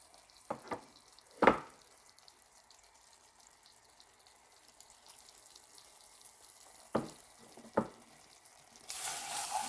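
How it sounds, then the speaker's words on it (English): Mushrooms and onions tossed into a hot pan of beef stroganoff roux, giving a few sharp sizzling bursts near the start and middle, then a loud, steady frying hiss that rises in the final second. "So I'm going to go ahead and add my mushrooms and my onions right here"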